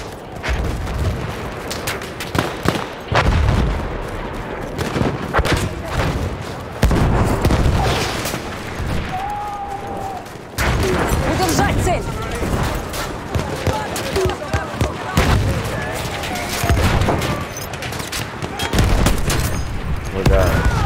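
Gunfire against a tank in the Battlefield 1 first-person shooter: a rifle loaded with armor-piercing K bullets, in repeated loud sharp cracks and booms over continuous battlefield din, with a player talking between the shots.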